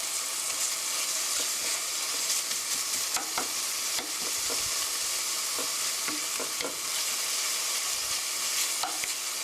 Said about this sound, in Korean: 고기에 핏기가 없어질 때까지만 볶아주세요.